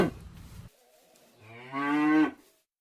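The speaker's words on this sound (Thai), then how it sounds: "ส่งเสียงร้องมอ มอ อยู่กลางทุ่ง" A cow moos once in an open field, a long, loud, tonal call swelling and then cutting off, preceded by a brief burst of other noise.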